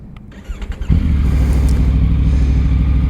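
A Triumph Tiger 900 GT motorcycle engine rumbles in, swelling after a few uneven bumps into a steady, loud, close low drone that holds to the end.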